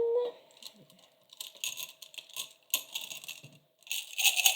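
Runes being mixed by hand for a divination reading, giving small clicking, rattling clacks of pieces knocking together in irregular bursts, quiet and close.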